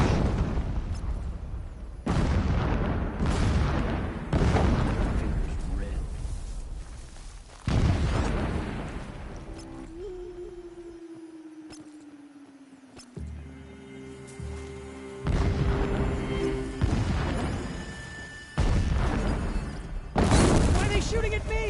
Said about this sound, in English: The blasting should cover any noise you make.